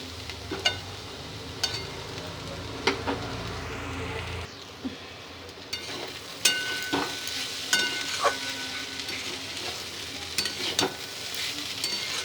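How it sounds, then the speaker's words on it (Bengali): Sliced potatoes fry in a pan, a steady hissing sizzle with periodic scrapes and taps of a spatula turning them; the tone shifts partway through, but the frying carries on close and clear. "আর একটু ভাজা ভাজা হবে"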